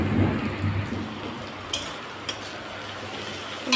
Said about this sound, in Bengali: শুনতেই পাচ্ছ বৃষ্টি কত জোরে পড়ছে, আওয়াজটা শুনে বোঝাই যাচ্ছে।